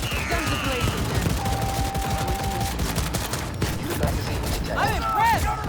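Gunfire in the video game Cyberpunk 2077, dense rapid bursts and shots running throughout, mixed with game sound effects and voices.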